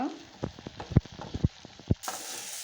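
Onions and green chillies sautéing in a pan for poori masala: a soft sizzle punctuated by several sharp spatula taps and scrapes at an uneven pace, close by, with no clear talking.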